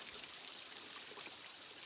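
A forest waterfall on the Ouachita Trail pours in a steady, unbroken rushing wash, close and alone with no voices.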